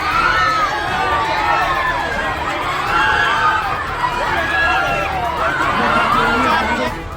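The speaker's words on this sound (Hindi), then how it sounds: "भीड़ जबरदस्त बवाल कर रही है, हाथों से ना के इशारे कर रही है" An angry crowd outside a mosque in Baghpat, Uttar Pradesh, confronts police in uproar, many voices shouting and clamoring at once in a dense, sustained din of rising yells.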